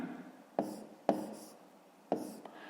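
Pen writing on paper while working a fifth-grade maths exercise: a few quiet scratching strokes with sharp taps as the pen meets the page, soft and close with short pauses between.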